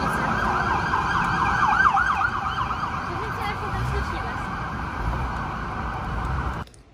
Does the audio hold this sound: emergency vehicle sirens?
yes